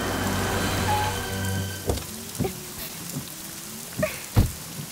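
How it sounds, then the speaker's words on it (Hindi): Rain falling during a roadside scene in an action film, steady broadband hiss with a low vehicle hum that fades out, followed by scattered close drops and thuds. "मैडम बारिश हो रही है"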